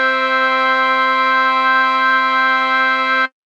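An instrumental ensemble holds one steady chord with flute and oboe, a bright, even sustained sound at close range that stops cleanly after a few seconds.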